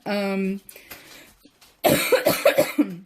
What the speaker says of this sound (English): so now I'm coughing